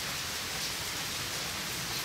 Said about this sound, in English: This rain has settled in.